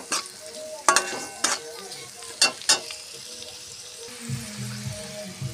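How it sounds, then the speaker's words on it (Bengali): Spices frying in oil for vegetable fried rice while being stirred, with several loud scraping strokes of a spoon against the pan over a low sizzle, then a faint voice-like hum near the end. "সব মশলা মিশিয়ে নিলাম, ভালো করে তেলের সঙ্গে ভেজে নিয়েছি।"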